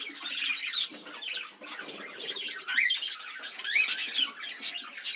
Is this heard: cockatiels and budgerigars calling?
yes